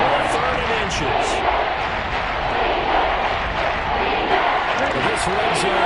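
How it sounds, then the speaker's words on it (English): Seahawks home crowd roaring in a Madden football game, with a dense, continuous stadium din that stays loud throughout, with some faint voices within it. "This red zone is where the Seahawk crowd really makes it tough for an offense to communicate"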